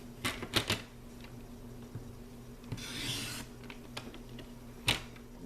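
Cardstock is cut on a paper trimmer, with a few sharp clicks and snaps, a brief gliding swish of the blade across the sheet in the middle, and another crisp click near the end, all fairly quiet.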